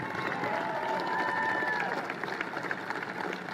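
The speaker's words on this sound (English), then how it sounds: "give me a big round of applause for the Penn Energy team" Crowd applause and cheering for a Penn Energy team at an outdoor gathering, a dense steady clapping with scattered whoops, moderately loud and sustained throughout, with a faint voice mixed in.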